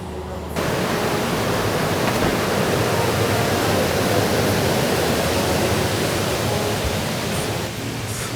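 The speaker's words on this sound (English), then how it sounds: "we can hear some water falling from the other side of the bridge" Continuous rushing of water falling near a reservoir bridge, a steady broad hiss and roar that starts abruptly and holds evenly, moderately loud with no voices.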